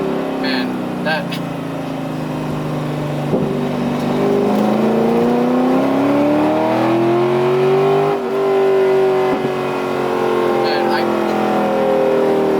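A Corvette C5 Z06 V8 engine revving up and down in long sweeping pulls, loud and close with a deep throaty tone that rises and falls repeatedly.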